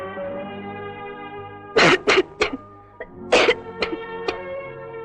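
A person coughing in two harsh bursts of several rapid coughs each, loud and close, with quiet gaps between and a low steady background hum.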